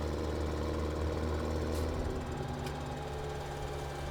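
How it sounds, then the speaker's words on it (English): In a farming video game, a tractor pulling an Acusen baler runs with a steady, chugging engine drone that holds close and even while it drives through hedges. "So here's the in-game Acusen baler, and I'll just try to clip through the hedges over here for you."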